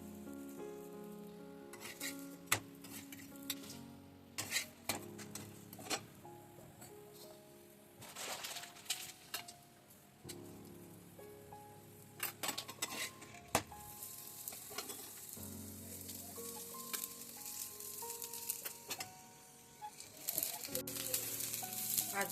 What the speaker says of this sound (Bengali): একইভাবে আমি বাকি পরোটাগুলো সব সেঁকে নেব।